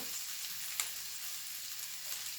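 Rice sautéing in a pan with softened peppers, onions and tomatoes, giving a steady, close sizzle with a faint scrape or two and one brief sharper tick, no voices.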